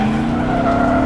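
A BMW M5 drifts in rFactor2 with a loud, continuous tire squeal over a droning engine note, unbroken and close throughout.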